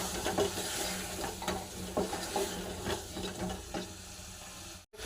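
Potatoes frying in a pan with turmeric, chili, cumin and garam masala, giving a steady close sizzle with scraping stir strokes and a brief break near the end.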